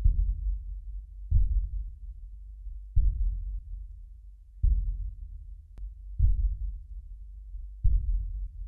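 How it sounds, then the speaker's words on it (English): A deep, muffled heartbeat-like thump pulses slowly and steadily underneath a menacing rap music track, six soft low beats evenly spaced with no talk over them. "Feels like a heartbeat underneath."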